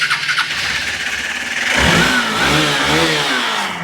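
A motorcycle engine idles close by, then revs up and holds a higher steady drone with no talking over it.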